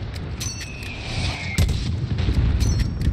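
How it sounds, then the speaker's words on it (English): Mortar rounds and gunfire in the first-person shooter Call of Duty: Modern Warfare (2019), with booming reports over a rumbling battle bed and a heavier blast about halfway through. "There's still a mortar out there."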